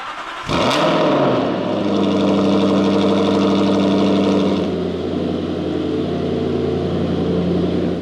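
A Porsche GT8 engine cranks and roars to life on a cold start, holding a loud, high idle before dropping slightly to a steady rumble.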